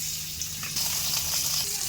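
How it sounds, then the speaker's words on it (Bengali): Rohu fish dropped into hot mustard oil for a potato curry gives a short burst of close sizzling hiss that swells slightly partway through. "সর্ষের তেল গরম হয়ে গেছে এবার মাছ দিয়ে দেবো"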